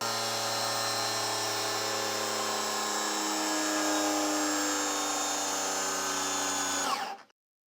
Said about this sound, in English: Makita 40 volt GAG14 here with the new tabless 4 amp hour.